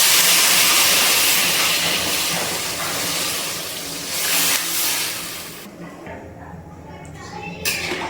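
Hot water is poured into a pan of drumstick and potato curry fried with spices, setting off a loud, steady steam hiss that lasts about five seconds, then drops to quieter bubbling and faint clatter.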